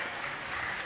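Applause from a seated audience at a Tamil motivational speech, a steady dense patter of many hands clapping that runs evenly without a break.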